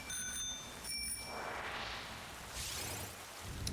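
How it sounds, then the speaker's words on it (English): A bicycle-style bell rung in a Pokémon Scarlet/Violet game, bright repeated dings in two bursts over a steady background hum, followed by soft whooshing in-game sounds. "the reason that I'm ringing my bell at him"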